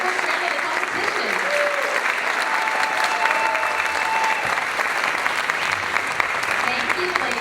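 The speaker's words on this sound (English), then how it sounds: "How about one more round of applause as we send them back to the backstage" Pageant audience applause at Mrs Oregon 2017, a sustained dense wash of clapping from a large crowd, with voices faintly mixed in underneath.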